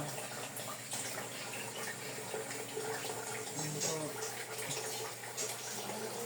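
A kitchen tap runs steadily, its water rushing in a continuous broadband gush at moderate level, with faint clatter and background movement but no clear talking.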